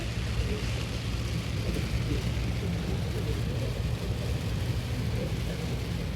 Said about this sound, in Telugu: చాలా పెద్ద వర్షం పడుతుంది